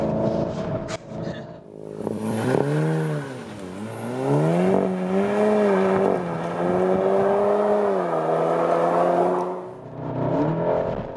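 A Volkswagen Golf 7 GTI Clubsport engine roars loudly up through the revs with overboost, pitch climbing, dipping at a gear change into third, then surging again before easing off.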